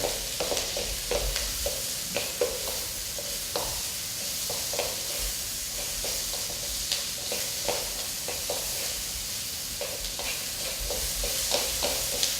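Garlic and onion fry in a pan with a steady close sizzle, while a utensil stirs and scrapes them in repeated taps and clacks throughout.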